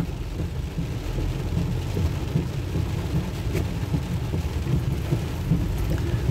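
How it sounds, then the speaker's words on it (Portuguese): Heavy rain pours steadily on a car during a drive through the city of Rolândia, a dense, unbroken hiss heard from inside the vehicle. "A chuva aumentou."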